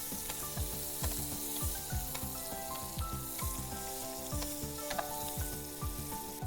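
Chopped onion fries in a pan for paneer pasanda with a steady close sizzle and crackle, while a spoon stirs it in repeated scraping strokes, and no one speaks.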